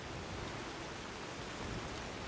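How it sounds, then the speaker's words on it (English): Rain falls steadily in the video game Skyrim, a dense, even hiss with no breaks, alone and without talk. "It's still raining."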